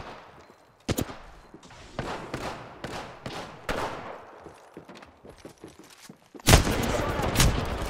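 Sniper gunfire in a video game: sharp single shots at irregular intervals, each with a short decaying tail, followed by a louder burst near the end.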